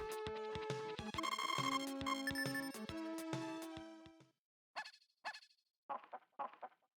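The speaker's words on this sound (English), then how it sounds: "only 1 more chicken sound" Chiptune music from the Harvest Moon SNES farming game plays for about four seconds, then stops, and several short clucking bursts from a chicken follow in the quiet.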